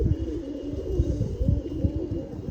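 Pigeons coo repeatedly in soft, low, throaty pulses, close by and steady, with a faint background hum.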